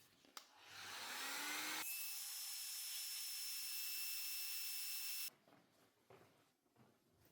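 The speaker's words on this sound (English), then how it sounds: "Now, using the heat gun or torch, you need to heat these connections until you see the solder start to flow." A heat gun warms soldered wire connections while a hatch spoiler is wired in, starting with a rising whine and then blowing a loud, steady roar with a faint tonal whine for about three and a half seconds before cutting off.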